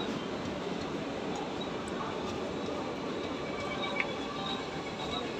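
A MEMU passenger train hauled by a Royapuram-shed locomotive rolls steadily along its route between Erode and North Coimbatore, giving off a continuous rumble and wheel noise with faint rattles, heard from on board with no talk.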